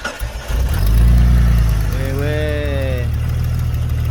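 A lifted Jeep Grand Cherokee 4x4 engine cranks and catches, then settles into a steady, loud, low idle with a brief rise in revs, close by and continuous.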